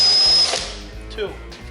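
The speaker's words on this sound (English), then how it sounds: "You just put the step drill in and go slow and let it cut." A power drill spins a step drill bit slowly through the rear wing of a Type R Civic, a whining buzz loud at first and then easing, with someone talking over it.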